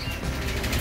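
A pigeon flaps its wings close by in one brief, loud, continuous burst of fluttering.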